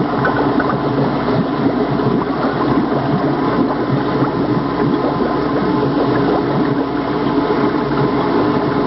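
Carbon dioxide bubbling through a series of chemical baths to wash out impurities, a steady dense gurgle and rush of bubbling liquid that continues without a break.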